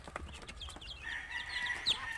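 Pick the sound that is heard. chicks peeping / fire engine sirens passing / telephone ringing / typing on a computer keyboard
chicks peeping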